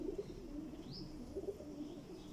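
An Amamdeen pigeon coos close by in a series of soft low rolling notes, with a brief high chirp in the middle.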